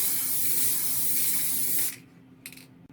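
Gunmetal spray paint hisses from an aerosol can onto a cosplay prop, a steady close spray for about two seconds, then a short final burst.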